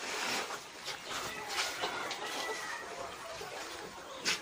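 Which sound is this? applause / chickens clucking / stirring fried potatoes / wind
chickens clucking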